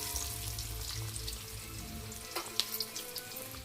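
Cumin seeds and red chillies frying in hot oil give a steady, quiet broadband sizzle with faint crackles, a few brief pops near the end, and no voices.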